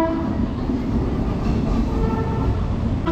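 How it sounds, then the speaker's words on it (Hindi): Barmer–Rishikesh train pulling out of Haridwar railway station, a steady loud rumble of wheels and carriages rolling close by, with a continuous dense mechanical roar throughout. "सामने ही 2 नंबर पे ये बाड़मेर ऋषिकेश वाली ये ट्रेन लगी हुई थी। तो अब ये निकल पड़ी है।"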